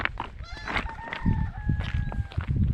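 Chickens cluck and squawk close by in a busy barnyard, with overlapping calls and a drawn-out crowing note in the middle.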